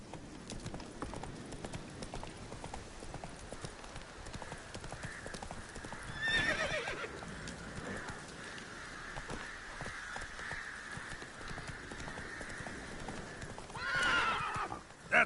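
Roach the horse in The Witcher 3 galloping, steady clip-clop of hooves throughout with two loud whinnying neighs, one in the middle and one near the end, with faint voices in the background.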